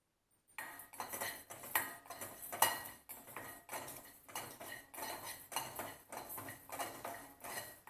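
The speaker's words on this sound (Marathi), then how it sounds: "कढई चांगली गरम करू घ्यायची कोरडे मसाले आहेत ते पहिल्यांदा आपण भाजून घेऊया" Dry whole spices are roasted and stirred in a hot metal kadai, the spoon scraping and clinking against the pan in a steady, regular rhythm of close, crisp strokes, with no talking.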